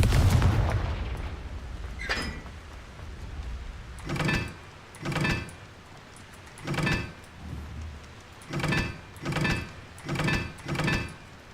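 A Confringo blasting spell fired repeatedly in Hogwarts Legacy: about nine sharp, crackling blasts at fairly even intervals after one early burst, fairly close and clear, with no talking.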